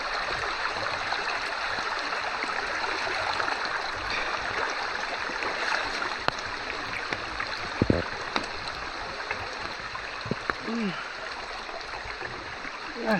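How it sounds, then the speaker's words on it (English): Someone wades through a shallow stream in the wild, water splashing and sloshing close by over a steady rush of flowing water, with a few sharper splashes toward the end. "I'm gonna have to wade in."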